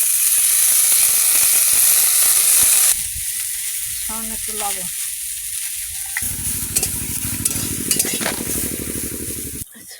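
Onions and neem flowers frying in a pan make a loud, steady sizzle, which drops after a few seconds to a softer crackle with stirring and scraping; a voice speaks briefly partway through.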